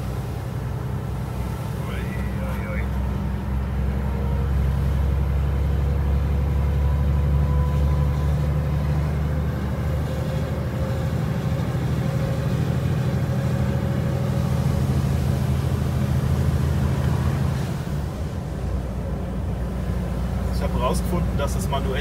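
Inside the cab of a DAF XF 530 truck climbing a hill in ninth gear, the engine holds a loud, steady low drone with a rising whine, and someone talks over it.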